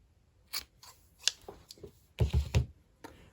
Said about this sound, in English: let's go ahead and cut our yarn